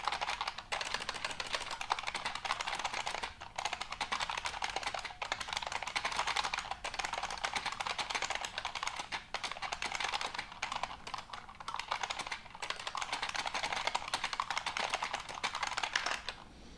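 Someone types fast and steadily on a computer keyboard, a rapid, continuous patter of key clicks with only brief pauses, close and alone without talk.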